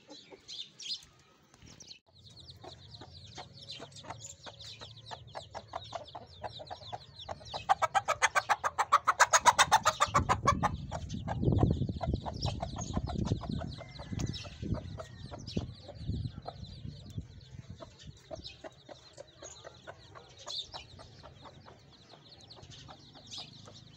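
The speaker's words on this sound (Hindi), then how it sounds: "और ये हमारी मुर्गी।" A hen clucks repeatedly in a farmyard, the calls close and irregular, with other chirping birds and fowl around her and a louder burst of clucking near the middle.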